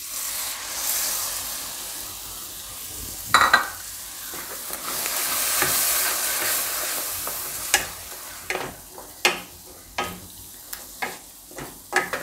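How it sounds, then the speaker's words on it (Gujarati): Tomato puree hits hot oil and spices for a Gujarati mixed vegetable shaak gravy, giving a bright, steady sizzle, then a run of sharp stirring and scraping strokes in the pan near the end. "હવે આપણામાં ટમેટાની પ્યુરી બનાવી હતી એ નાખી દેવું."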